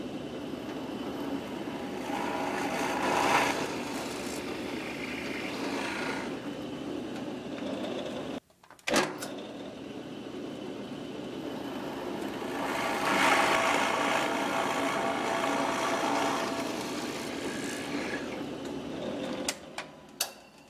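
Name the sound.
drill press drilling holes in tenor guitar part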